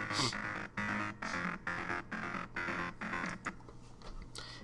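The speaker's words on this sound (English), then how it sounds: "What I wanted to do with this was create a simple trance bass line." A pulsing trance bassline from the DUNE CM synthesizer throbs in steady, evenly spaced bursts, with a bright driving layer chopping along in the same rhythm.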